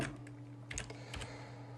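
Quick taps on a computer keyboard as someone types into a web browser, a few soft clicks spread over about two seconds, quiet and close with faint background hum.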